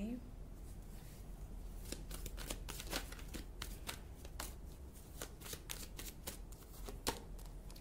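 Tarot cards are shuffled and drawn in a run of crisp riffling snaps and flicks, steady and close, with a low murmur of background noise underneath.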